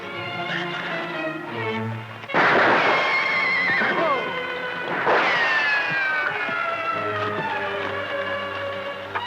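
A horse in a Western TV show scene lets out two loud, shrill whinnies a few seconds apart over background music.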